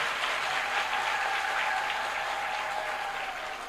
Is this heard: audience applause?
yes